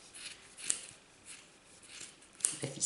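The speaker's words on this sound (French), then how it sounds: "Je vais prendre des ciseaux qui coupent mieux." Scissors trim a yarn pompon with soft, quiet snips, a few light cuts spread over a few seconds with no talking.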